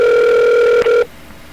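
Telephone line tone on a call-in to a live radio show: a steady, loud electronic tone holds for about a second, briefly dips, then cuts off abruptly to near silence.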